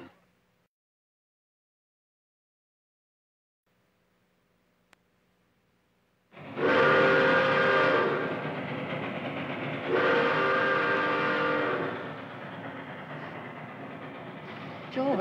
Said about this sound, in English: Do you hear that train?